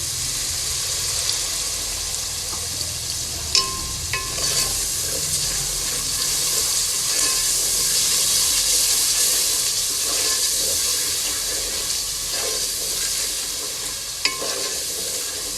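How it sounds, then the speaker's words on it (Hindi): Chickpeas frying in a pan for Lahori chikar chhole give off a steady broadband sizzle as water goes in, with stirring clatter and a few sharp utensil taps throughout, close and continuous with no talking. "पानी डालेंगे थोड़ा।"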